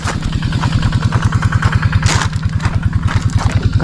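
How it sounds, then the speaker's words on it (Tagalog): A small engine runs loud and steady near a rice paddy during airgun fishing, its rapid regular chugging filling the whole stretch up close with no talk over it. "Maingay lang yung makina dito eh"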